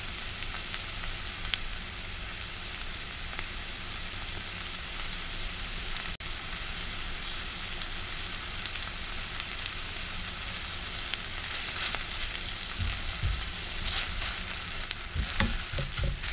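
Onions sizzling in butter in a hot pan, a loud, dense and continuous frying crackle that runs steadily throughout with a few sharper pops near the end.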